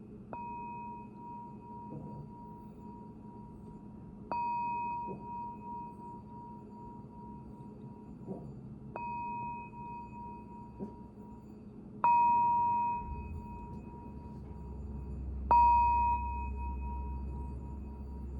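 A singing bowl is struck several times, each strike ringing out in a clear sustained tone that slowly fades, with quiet pauses between strikes.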